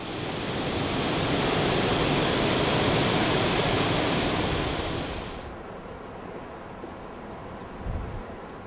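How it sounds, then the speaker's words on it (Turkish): A spring waterfall on the Alara stream roars down a mountainside, a dense and loud rushing wash that suddenly drops to a quieter, duller flow about halfway through. "Nisan'da dağ yamacından gürleyerek çağlayıp çevresinde su damlalarından küçük bulutlar oluşturuyor"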